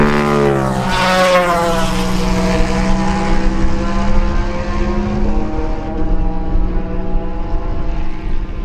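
Racing motorcycles, a Suzuki chased closely by a Yamaha, scream past in a lightweight road race. A sharp engine whine drops in pitch as the bikes pass, then recedes into a fading drone. No voices.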